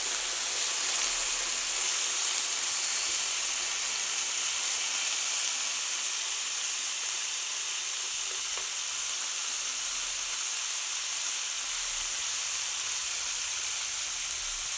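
Beef liver sizzles on a hot, smoking Tefal OptiGrill, giving a loud, steady hiss that continues without a break.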